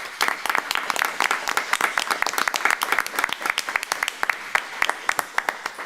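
People attending a municipal council meeting applaud, a fairly small gathering whose individual claps stand out sharply as a lively, uneven patter lasting several seconds.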